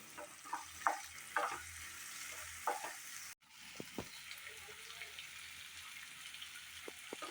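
Ground spinach puree goes into a hot pan for palak paneer, a soft, faint sizzle with scattered light spattering pops and a brief break midway.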